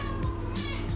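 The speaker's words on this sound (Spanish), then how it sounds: "Y ese maullido es de que quiere pollo." A cat meows insistently for chicken, giving a drawn-out, wavering call close by in an indoor room.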